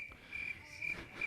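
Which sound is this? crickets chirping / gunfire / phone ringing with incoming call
crickets chirping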